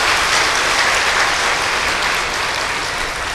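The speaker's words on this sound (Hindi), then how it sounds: "हाँ, एक बार फिर अपने लिए ताली बजा दें।" An audience claps together in sustained applause, a dense, even patter that holds steady and fades only slightly toward the end, with no voices over it.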